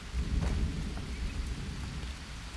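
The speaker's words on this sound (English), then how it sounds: "I think the rain ought to wash it off him." Rain and rolling thunder in the jungle survival game Green Hell, a deep low rumble with steady rain hiss throughout, close and continuous with no talking.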